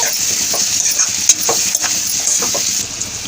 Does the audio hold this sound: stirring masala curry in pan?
yes